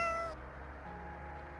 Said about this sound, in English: a cat meowing.